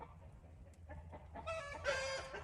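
Homestead chickens near a coop cluck and squawk, faint at first over a low background rumble, then swelling into a brighter, louder run of calls toward the end.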